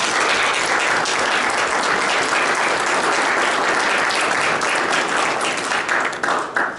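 An audience claps warmly to welcome a speaker at a Kids4Peace event at Trinity, with dense, sustained applause that stays loud and then tapers off with a few scattered claps near the end.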